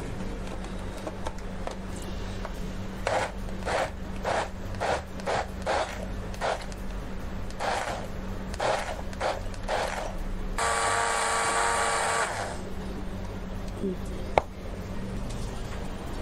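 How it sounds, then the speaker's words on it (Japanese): Kitchen blender grinding sanshō, chili, garlic, ginger and salt for tomato achar, a loud whirring burst of about two seconds after a run of short rhythmic mechanical pulses, with talk nearby. "ミキサーかけますね。"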